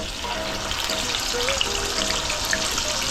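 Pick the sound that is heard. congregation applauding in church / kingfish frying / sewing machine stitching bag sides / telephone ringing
kingfish frying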